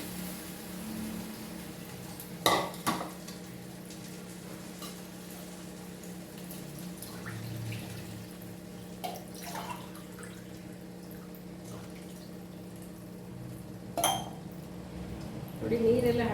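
A pot of aloo rice being stirred and mixed, with occasional spoon clinks and scrapes against the vessel over a low steady hum, quiet overall with a few sharper knocks.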